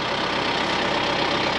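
A tractor fitted with a front loader idles steadily close by, a continuous broadband engine rumble with no change in pitch over the short stretch.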